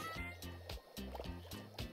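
Dishes are washed in the cooking game Overcooked 2, giving repeated splashy watery bursts in a quick rhythm over looping game music, with no clear speech.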